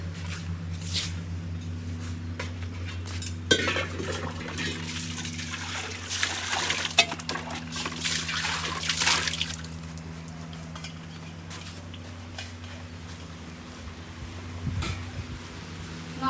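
Running water splashes and trickles while dishes are washed by hand in a Punjabi home, with louder splashing bursts in the middle and faint voices underneath.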